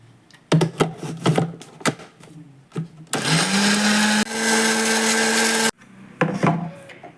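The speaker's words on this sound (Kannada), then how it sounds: "ಸಣ್ಣ ಗ್ರೈಂಡ್ ಮಲ್ಪುಗ" A mixer grinder whirs loudly in two long bursts, turning ingredients into a paste with a little water, with rattling clicks and knocks from the jar before and after the runs.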